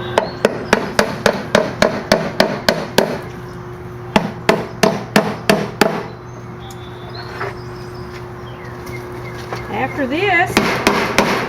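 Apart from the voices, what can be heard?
hammering roofing nails through weed block fabric into garden box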